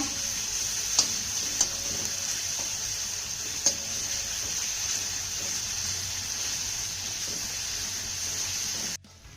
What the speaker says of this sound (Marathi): आता हा कांदा आपल्याला छान असा मौसूत होईपर्यंत परतून घ्यायचा